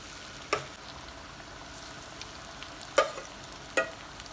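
Boiled, marinated egg pieces fry quietly in oil for egg manchurian, a faint low sizzle broken by three sharp clinks or scrapes of a utensil against the pan.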